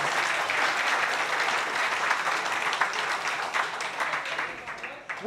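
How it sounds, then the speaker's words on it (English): A crowd applauds continuously at the opening ceremony of the Hansa Class Asia Pacific Championships sailing event, dense clapping from many hands filling the space, holding strong before tapering slightly at the end. "big round of applause for all of you"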